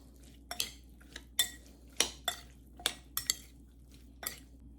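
A spoon scraping and knocking against a bowl while carrot pickle ingredients are mixed, about a dozen sharp metallic clinks at uneven intervals over a low steady hum.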